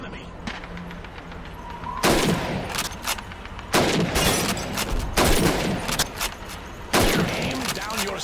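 Rifle shots crack at bottles and plates on a shooting range in Call of Duty 2: several loud, sharp volleys of gunfire come at uneven intervals, each with a short echoing tail, over quieter background stretches.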